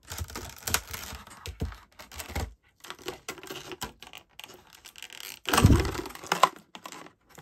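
Crinkling and tearing as a packaged Pokémon candy toy is unwrapped, with irregular bursts of plastic rustling and snapping separated by short pauses, close and fairly loud.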